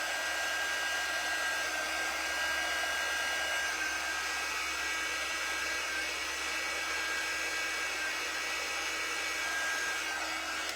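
A heat tool blowing steadily at close range, drying paint on a wine tote bag; a continuous, even whooshing hum runs alone and unbroken throughout with no talking.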